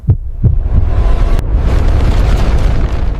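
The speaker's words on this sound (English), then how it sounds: "With a massive explosion, the cosmic forge is finally relit." A massive cosmic explosion sound effect: two heavy low booms open it, then a deep, roaring rumble swells and holds loud to the end.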